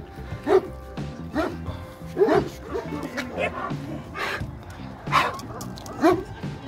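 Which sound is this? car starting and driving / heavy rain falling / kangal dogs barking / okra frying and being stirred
kangal dogs barking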